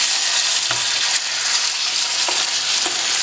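Pahadi chicken curry sizzles hard in the pan as milk is stirred in, a loud, bright, continuous frying hiss with a few soft spoon knocks against the pan.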